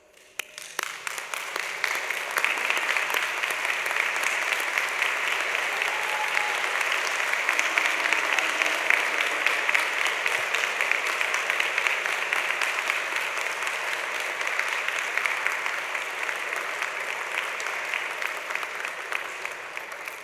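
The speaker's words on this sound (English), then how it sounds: "stand up and give them a huge round of applause" Sustained, dense applause from a large audience at a Manchester university degree ceremony, rising quickly and then holding steady and loud for about twenty seconds with no speech.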